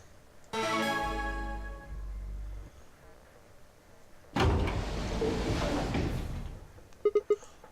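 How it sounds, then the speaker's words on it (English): A door in The Nonary Game video game opens with a buzzing electronic tone, then a loud rushing slide, followed by a few short sharp clicks at the end, with no voices. "And there goes the door."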